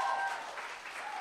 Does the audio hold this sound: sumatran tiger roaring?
no